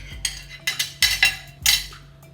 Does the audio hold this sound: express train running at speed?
no